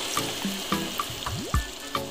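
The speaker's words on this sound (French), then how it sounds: "Et donc là, vous allez rajouter un peu d'eau." Water is poured and trickles into a pot of cooking beef fillet with onions and paprika, with clinks and drips over a running-water texture.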